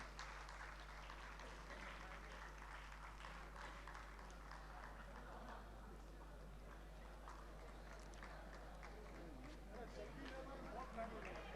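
Loud applause from an audience at a state service committee ceremony, dense continuous clapping filling the whole stretch with a low steady hum beneath and voices mixed in.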